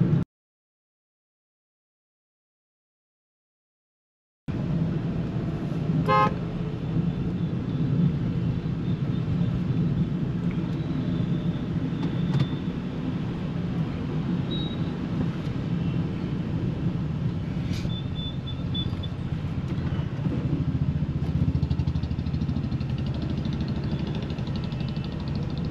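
A Maruti Celerio ZXI hatchback cruising through city streets, heard as a steady low engine and road rumble from inside the cabin, starting after a few seconds of silence and continuing evenly with faint passing traffic noise.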